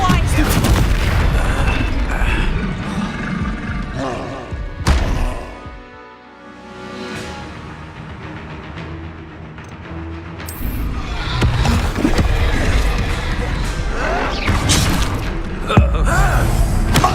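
Repeated booming magical explosions from the Bombarda spell in Hogwarts Legacy on PS5, loud dense blasts and rumbling impacts filling the scene, with a brief lull midway before the bursts resume amid game effects.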